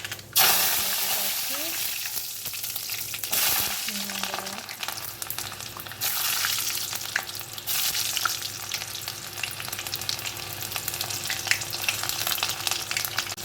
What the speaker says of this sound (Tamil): இப்போ நம்ம எடுத்து வச்ச வெந்தயம் கடுகு நம்ம போட்டாச்சு